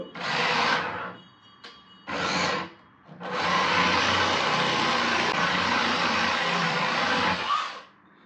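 Cheap hobby-grade RC car, rated at 20 km/h, driving and drifting, its electric motor whining loud and close in two short bursts and then one long sustained run, with no talk over it.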